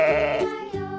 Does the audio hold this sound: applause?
no